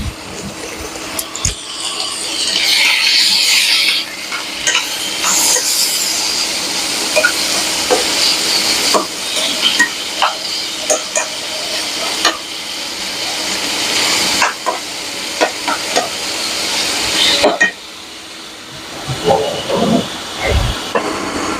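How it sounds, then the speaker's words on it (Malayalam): Boneless chicken seasoned only with salt and pepper frying in a pan, giving bursts of hissing sizzle and stirring scrapes that rise and fall, with quieter gaps in between. "നമുക്ക് ഈ മാരിനേറ്റ് ചെയ്ത് വെച്ചേക്കണേ ഈ ബോൺലെസ് ചിക്കനൊന്ന് ഫ്രൈ ചെയ്തെടുക്കാം."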